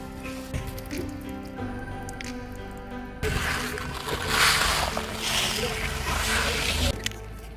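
Mustard seeds being washed by hand in water, with wet sloshing, dripping and squishing that grows louder and busier after the first few seconds, continuing steadily throughout.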